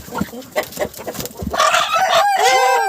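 A rooster crows loudly and close by, following some softer clucking and rustling at the start.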